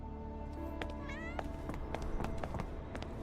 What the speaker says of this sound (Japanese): また猫。